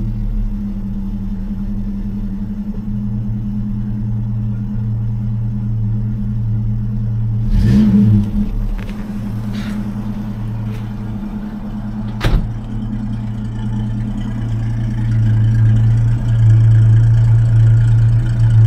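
A 1961 Rover P4 car engine, refitted with P6 rubber spark plug boots, runs at a steady fast idle, a close, continuous rumble with a couple of brief knocks partway through.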